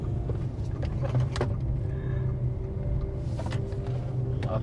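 Inside a Wuling Air EV electric car driving and making a U-turn: a quiet, low cabin hum and road rumble, with a few faint clicks and light knocks scattered over it.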